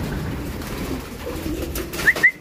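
Racing pigeons in a loft, with soft low cooing over a quiet background and two sharper, brighter calls near the end, close by and with no talk.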